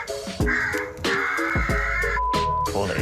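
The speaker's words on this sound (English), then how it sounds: "places the electronic distress caller on the roof of his neighbor's shed" An electronic distress caller set on a shed roof plays crow calls: a string of loud, harsh caws in quick succession, close and clear, with no talking.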